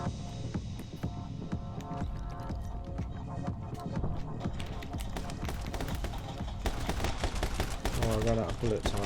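Rapid gunfire bursts from the side-scrolling action game My Friend Pedro play over a dense bed of game music and effects, loud and continuous, with a voice talking over it.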